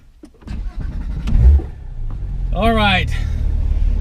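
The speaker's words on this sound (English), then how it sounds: "I like to have the windows down so I can hear the engine resonating off the mountain walls." A car engine rumbles steadily on a mountain road with the windows down, building in level toward the end, while a person speaks briefly over it.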